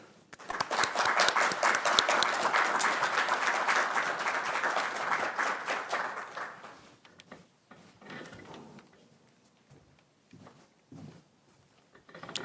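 An audience applauds as speaker Christine Emba is welcomed, loud dense clapping for about six seconds that then fades into scattered footsteps and small room noises.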